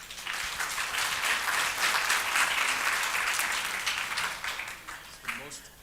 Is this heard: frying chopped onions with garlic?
no